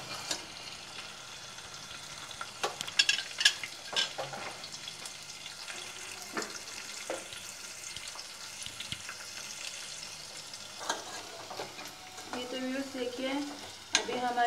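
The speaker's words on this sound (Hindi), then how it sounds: "हम इसके अंदर फिर अदरक लहसुन का पेस्ट ऐड करेंगे।" Ginger garlic paste sizzles in a pan with onions browning to light brown for a spiced courgette dish. Steady frying hiss runs throughout, with scraping stirring strokes and clinks of a spoon, close up and with no voices.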